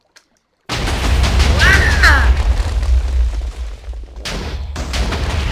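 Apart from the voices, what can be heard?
TNT explosion from Husky Mudkipz mod in Minecraft video game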